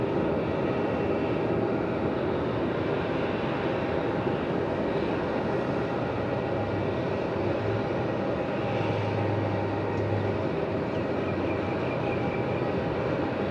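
A jet departing runway 27 at Melbourne Airport rumbles at a distance, a steady moderate roar with low drones swelling and fading, no voices.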